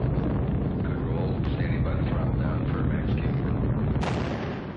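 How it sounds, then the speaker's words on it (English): Space Shuttle Atlantis lifting off, a loud, continuous broadband rocket roar that holds steady throughout with a brief crackling burst near the end. "3, 2, 1, 0, and liftoff of Space Shuttle Atlantis."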